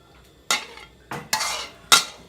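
A utensil scrapes and scoops a Thai omelette from a pan onto a plate, giving four short, close scraping clatters of metal against cookware.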